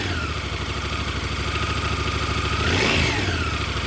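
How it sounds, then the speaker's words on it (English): A 2025 Honda Africa Twin ES engine with a 270-degree crank rumbles steadily with a throaty, pulsing beat, swelling briefly in a rev near the end before cutting off. "the sounds it makes from this 270-degree phased crank, it gives you that throaty rumble"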